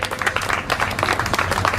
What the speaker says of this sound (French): je vous demande d'applaudir très fort Kevin